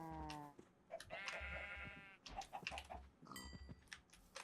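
Several Minecraft sheep bleat in a row, close and clear, their wavering cries repeating at uneven intervals with brief gaps between them.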